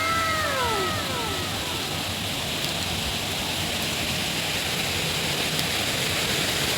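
Strong water rushing over rocks in a mossy, rain-swollen stream, a loud steady roar filling the whole stretch, with a faint bird chirp near the start.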